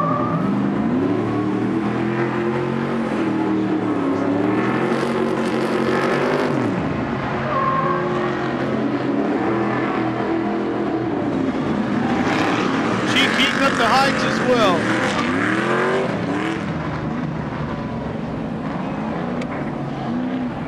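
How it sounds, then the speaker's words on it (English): A race car spins donuts on the Long Beach street circuit at a 2023 race, burning its Continental tires. Engine revs rise and fall with tire screeches, heard under a loud announcer talking throughout. "Doing some donuts out on the racetrack."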